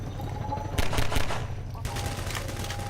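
Rapid bursts of automatic gunfire crackle in a Half-Life 2 firefight, a dense volley lasting about a second amid a steady game background hum.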